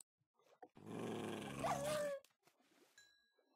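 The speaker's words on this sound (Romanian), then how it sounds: "Deci ne-am pus rău cu câinii" A dog growls low and steadily for about a second and a half in Minecraft, with a brief whine near the end and small game noises around it.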